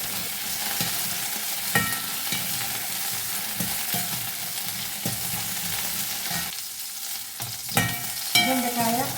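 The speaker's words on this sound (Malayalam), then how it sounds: "വെണ്ടക്കായ ഒന്ന് ഇതുപോലെ വഴറ്റിയാലുണ്ടല്ലോ അതിൻ്റെ വഴുവഴുപ്പ് പോകും" Okra sautés in a hot pan, a steady dense sizzle with occasional scraping stirs and clinks of a spoon, continuous and close with no talking.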